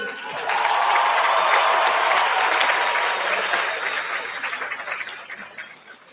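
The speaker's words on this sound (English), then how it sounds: "Let's have one more round of applause from all of our honorees." A high school graduation crowd gives a full round of applause for the honorees, steady and dense at first, then gradually tapering off over a few seconds.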